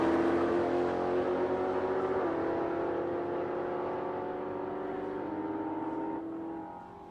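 Nitro funny car making a drag racing pass at Palmyra Dragway, a loud strained engine howl that shifts pitch in steps and fades gradually as the car pulls away.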